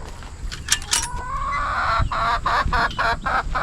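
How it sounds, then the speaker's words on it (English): Chickens clucking in a backyard coop, a close, steady run of short repeated clucks with a few sharper calls mixed in, no talk over them. "So here they are, some of the chickens that survived."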